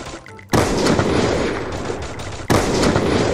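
Gunfire in the game Free Fire, a dense, loud stream of rapid shots after a brief quieter start, with another sharp burst of fire near the end, and no talk.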